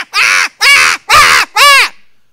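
A voice imitates a baby bird calling from the nest, giving four loud, harsh, caw-like squawks in a steady rhythm, each about half a second long, with no other sound.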